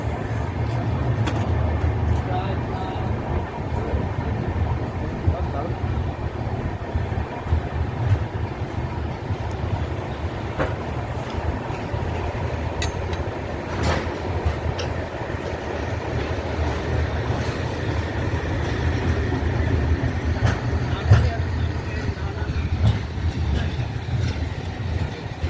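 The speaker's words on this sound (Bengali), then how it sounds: "রেনিগুন্টা জংশনের ট্রেন এসে পৌঁছালো" The SMVT–Howrah Duronto Express (12246) rolls at Renigunta Junction with a continuous, steady rumble of wheels and carriages, heard from on board as a broad, even roar with occasional clanks.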